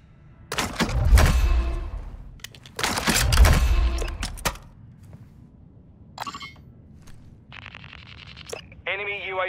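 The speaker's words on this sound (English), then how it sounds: "Our mortar strike is inbound." Mortar strike explosions in Call of Duty: Warzone 2, two heavy booming blasts with deep rumbling tails close by, followed by quieter in-game electronic tones and brief voice announcements.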